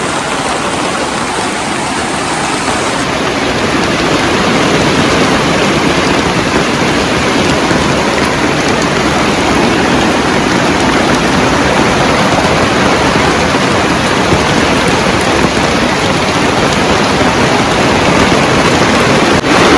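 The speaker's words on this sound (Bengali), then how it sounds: "অবশেষে বৃষ্টি চলে আসলো" Steady, loud broadband rush of heavy rain falling continuously, with no voices and no break throughout.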